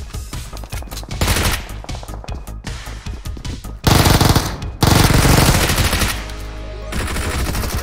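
Video game gunfire, with rapid bursts of automatic fire and loud repeated shots, some sustained volleys and dense clattering, with no voices.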